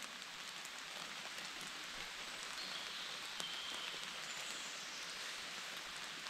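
Steady rain falls in a forest as an even, soft hiss of drops on leaves and surfaces, continuous and fairly quiet throughout with no voices.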